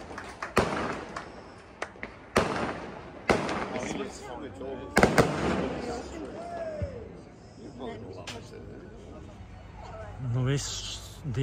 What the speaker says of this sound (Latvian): Šodien diena noslēdzās ar mūziku, vīnu un vēl salūts uzšāva.